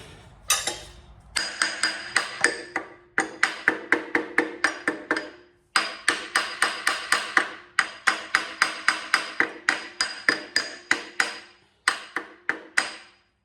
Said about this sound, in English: Let's give it a tap with a hammer again.